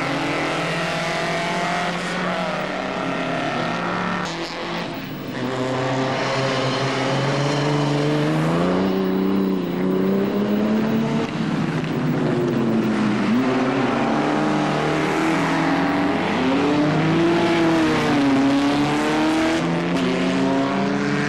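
A vintage Morgan racing car at a Vintage Sports Car Club handicap race, its engine droning loud and close with rising and falling revs as it passes, sustained throughout with no voices.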